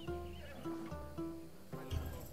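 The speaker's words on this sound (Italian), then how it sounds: "Dimmi di questo cavallo." A horse in Assassin's Creed Odyssey gives several loud whinnies with rising and falling pitch, followed by a short stamp of hooves near the end, with game music playing beneath.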